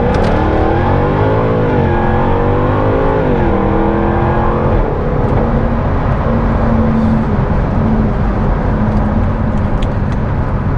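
A Jaguar F-Type R with a 5.0 V8 launches from a standing start on an airstrip. The engine note climbs through the gears with clear shift dips, loud and close, and no one speaks.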